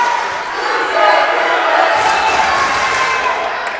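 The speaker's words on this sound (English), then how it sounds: "Gatesville crowd letting the Spartan players know you can't do that." A Gatesville high school basketball crowd in a gym shouting and jeering at opposing players, a dense, loud roar of many voices sustained throughout with rising peaks.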